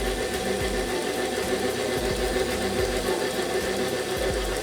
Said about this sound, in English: Just gonna blend this until it's well incorporated.